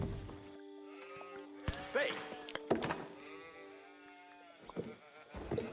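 Sheep in an Age of Empires–style strategy game bleat a few times in quick, wavering calls, mixed with short game clicks and effects under faint background commentary.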